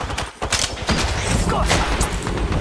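Heavy gunfire in the Apex Legends video game, with rapid bursts and loud rattling volleys of automatic fire coming in close, dense succession, with a short lull near the start, while a player talks over part of it.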